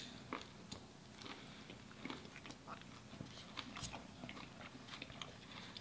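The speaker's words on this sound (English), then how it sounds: "That's the patty I'm crunching." Close chewing of a Wendy's bacon maple chicken sandwich with a crispy chicken patty, a quiet continuous crunch of small bites and mastication with no talking.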